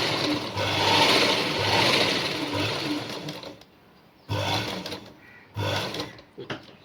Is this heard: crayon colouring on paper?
no